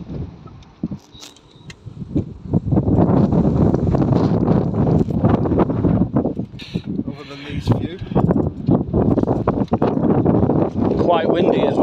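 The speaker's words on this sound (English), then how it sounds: "Quite windy as well." Gusty wind buffets the microphone outdoors on a path around a site in Grimsby, a steady rumbling roar under people talking nearby.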